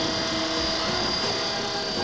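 A Blade 400 RC helicopter rigged with a single-blade rotor runs at quarter throttle, giving a steady loud whine and buzzing drone with a constant high tone and no pauses, close to the listener.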